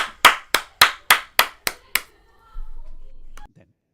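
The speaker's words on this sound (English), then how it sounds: "let's give him another big round of applause" Seven loud, sharp hand claps spaced evenly about a quarter second apart, close and alone, from a small audience at a seniors group recital; a brief low murmur follows after the claps stop.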